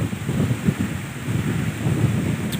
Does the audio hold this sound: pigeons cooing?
no